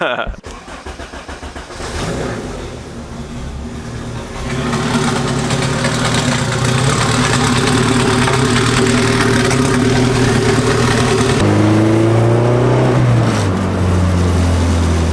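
A turbocharged B18C Honda Civic engine starts up close and loud, settles into a rough idle, then rises in steady revs with a pitch climb near the end. People talk over it.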